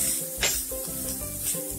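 Chopped onions sizzle and crackle in a hot pan with a little salt, with a few quick stirring scrapes close by.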